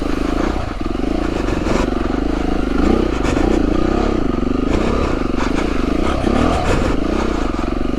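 A heavy trail motorcycle chugs steadily through a waterlogged track in the Sussex and Hampshire countryside, its engine loud and close throughout, with clattering and scraping mixed in and the revs rising and falling slightly.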